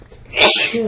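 A single sharp sneeze, close and loud, bursting out after a brief intake of breath.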